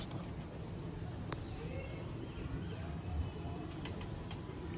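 Sialkoti pigeons, a patterned rooftop-flying breed, coo low and steadily through a dense, continuous background hum with a few sharp clicks and faint chirps.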